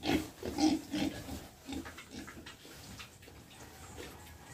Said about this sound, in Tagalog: Ma'am Lauren, ito na po ang baboy nyo